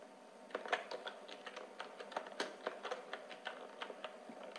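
Someone types on a computer keyboard in a quiet room, a run of close, irregular key clicks that sound alone.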